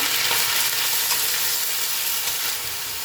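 Ground paste of onion, ginger, garlic and green chilli sizzles steadily in hot oil in a kadai, a loud, continuous hiss that fills the whole stretch with only faint stirring beneath it.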